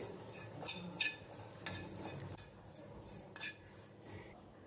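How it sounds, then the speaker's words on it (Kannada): Metal spoon scraping and clinking against a pan while fresh curry leaves are stirred and dry-roasted for peanut chutney powder, with repeated short scrapes and taps over a faint background hiss, no voices. "ಕರಿಬೇವಿನ ಸೊಪ್ಪನ್ನು ಅಷ್ಟೇ ಸ್ವಲ್ಪ ಹುರ್ಕೊಬೇಕಾಗುತ್ತೆ"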